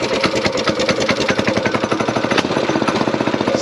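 A vehicle engine runs with a fast, steady, loud pulsing chug, idling close by without a break and with no voices.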